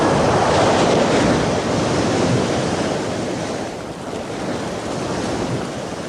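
Sea waves crash against the coast in a loud, continuous roar of surf mixed with wind rush that swells early and eases slightly toward the end.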